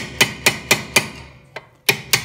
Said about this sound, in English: I got to get the hammer out and give that one a little help